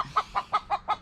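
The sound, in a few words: chicken clucking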